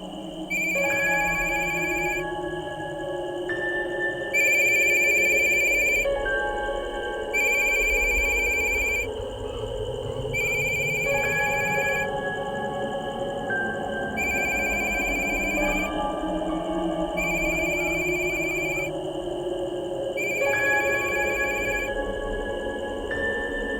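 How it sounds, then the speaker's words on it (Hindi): A telephone rings unanswered in a house at night, its bell trilling in regular bursts every few seconds for over twenty seconds, over a low, eerie background drone. "नीलम और अपनी माँ से बात करने के लिए, लेकिन उसका फ़ोन उठाने के लिए घर पर अब कोई नहीं था।"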